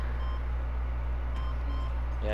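A bomb in Grand Theft Auto V gives off a continuous electronic beeping tone over a steady low background hum, with no talk during the sound.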